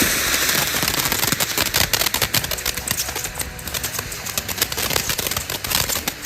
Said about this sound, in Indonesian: kita lanjut lagi menyalakan mercon air mancur segitiga